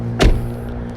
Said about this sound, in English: all you got to do is press the button once, and if you hear one beep, it's unlocked